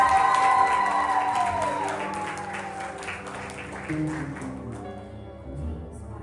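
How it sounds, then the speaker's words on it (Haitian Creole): An audience at a Bible recitation challenge claps in a dense burst that slowly thins and fades, heard under a lingering musical tone and no spoken words. "Applaudissez."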